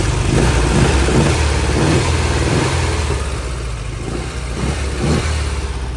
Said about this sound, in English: The motor just sounds great.